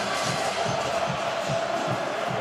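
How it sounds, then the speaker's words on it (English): Football stadium crowd at a college game roaring steadily, with dense cheering and rhythmic chant-like pulses from the student section, loud and continuous throughout. "This crowd has really come to life"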